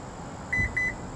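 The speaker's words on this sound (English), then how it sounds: "you hold this button down and you listen for the beeps." Two pairs of short, high electronic beeps from a 2025 Honda Odyssey Sport L tailgate in quick succession, fairly faint, against a quiet background hum.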